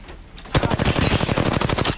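Rapid automatic gunfire from an Apex Legends match played on a Nintendo Switch, a loud sustained burst of closely spaced shots starting after a brief quiet lead-in and continuing steadily to the end.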